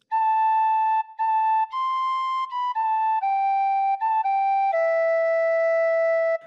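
A phrase of Silent Night played on a tin whistle, about nine clear, sustained notes in a slow, gentle rhythm, stepping up and down in pitch before settling on a long final low note. Close and alone, with no talking.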